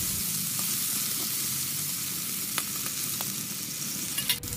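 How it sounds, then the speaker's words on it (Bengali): Cut potatoes frying in oil in a wok, a steady, moderately quiet sizzle with occasional clinks and scrapes of stirring, no speech. "এবার এই একই তেলে দিয়ে দেবো সেই কেটে রাখা আলুগুলো। এই আলুগুলো আমি একটু ভালোভাবে ভেজে নেব।"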